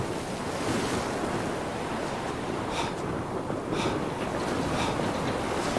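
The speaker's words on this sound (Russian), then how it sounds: "И вода бьется о берег крутой." Waves crash against a steep shore in the game Call of Cthulhu: Dark Corners of the Earth, a steady, loud wash of surf with gentle swells and wind-like hiss running throughout, with no talking.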